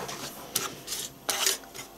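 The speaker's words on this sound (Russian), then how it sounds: "Я его тут помешиваю." Melting chocolate is stirred in a small wax-warmer pot, a utensil scraping and tapping against the pot in a few quiet strokes, close and soft.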